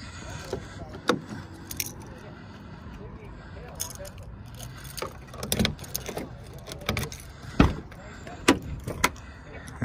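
Someone climbs into a 2016 Chevrolet Express van: scattered clunks, rattles and jingling as the door and interior are handled, with a sharp, loud thump near the end.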